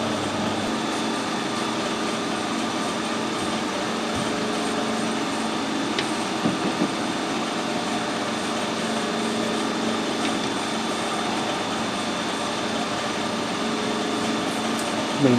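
Metal lathe turning at 130 RPM while parting off a tool post handle: a steady mechanical hum and whirring drone with faint scraping, continuous and fairly close throughout.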